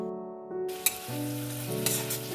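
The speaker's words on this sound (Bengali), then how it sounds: "ওই তেলটির মধ্যে পেঁয়াজ কুচিটা দিয়ে ভালো করে ভেজে নেব" Chopped onion with ginger-garlic paste fries in hot oil for a simple chicken curry, a steady sizzle with a couple of sharp stirring knocks, accompanied by sustained background music tones.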